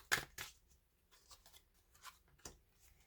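Cards being laid over and covered on a table during a tarot spread, a few quick papery slides and taps spaced irregularly, soft and close with no talk.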